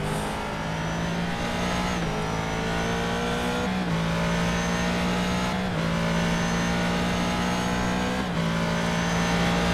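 GT race car engine in the iRacing sim at Donington Grand Prix, a loud, chunky, throaty drone that rises through the gears with repeated upshifts roughly every two seconds, steady and close with no talk.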